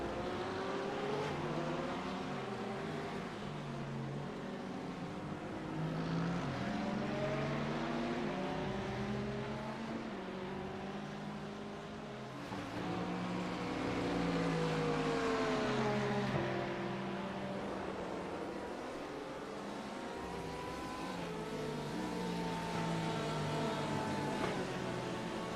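Engines of racing cars including a Porsche 911 GT3 circuit at Silverstone, a steady loud roar with shifting harmonic tones as cars pass close together, swelling and easing with no talk over it.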